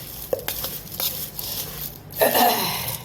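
A poha mixture is stirred in a container, giving a few light scraping and clinking strokes followed by a louder rustling swish near the end, close by and with no speech.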